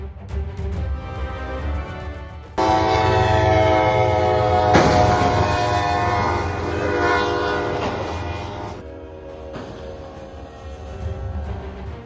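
A heavy train approaches, sounding long, loud horn blasts over a rumbling roar of wheels on rails, with a quieter rolling rumble before and after the horn.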